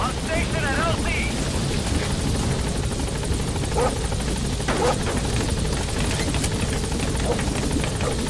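Helicopter in the Metal Gear Solid V video game setting down at a landing zone, a steady loud rotor and engine roar filling the scene throughout, with a voice speaking over it.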